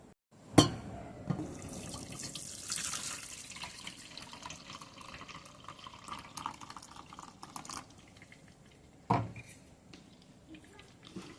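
Water pours and splashes while wheat bran is rinsed by hand in a kitchen vessel, a steady running wash with two sharper splashes near the start and end.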